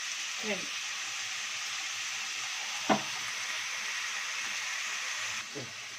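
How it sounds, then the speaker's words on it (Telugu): Food sizzles in hot oil until golden brown while a Godavari-style crab curry is cooked. Steady, moderate frying hiss throughout, with a few brief faint voice sounds. "సగం వేసుకొని వేయించుకొని గోల్డెన్ బ్రౌన్ షేడ్ వచ్చేదాకా వేయించుకొని"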